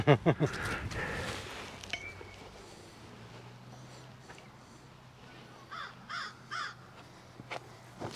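A crow caws several times in quick succession on a park disc golf course. The calls come from a fair distance over quiet outdoor ambience, with brief voices and laughter near the start.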